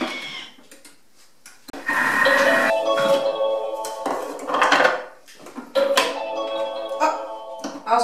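A Thermomix TM5 beats sugar until frothy at speed 4, its motor whirring with a steady tonal hum while metallic clinks and clatter of the bowl and utensils come and go over several seconds.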